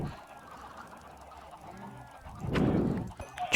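Chickens in a Minecraft survival game, a few short clucks and squawks rising over quiet background sounds, loudest toward the end.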